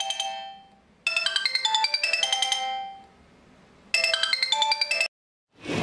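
A phone ringtone plays in two loud melodic bursts separated by a pause, a bright electronic tune ringing alone.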